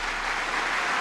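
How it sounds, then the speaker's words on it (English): A crowd at a political gathering claps, heard as a dense, steady wash of applause filling the whole brief moment without a break. "Round of applause for the guys that voted for Trump"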